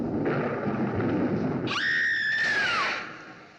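A thunderstorm sound effect in a radio drama gives a low rolling rumble. A shrill, wavering wail then rises over it, holds, and falls away as the sound fades.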